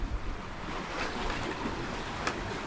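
Sea waves wash against a rocky shore during rock fishing on a clear day, a continuous broad surf hiss with a few soft surges and some wind.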